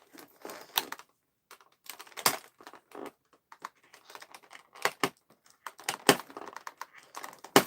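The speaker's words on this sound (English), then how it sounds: "We're gonna sit here and cut things for a minute." Small hobby nippers and an X-Acto blade snip and cut pieces at close range, producing sharp, scattered clicks and snaps with short silent gaps between.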